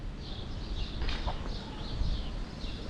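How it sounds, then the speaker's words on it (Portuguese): Birds chirp outdoors near the Holocaust Memorial in Berlin, their short, repeated calls carrying over a steady background of wind and city ambience. "Quem ouve o churreio dos pássaros aqui e vê essas folhas farfalhando"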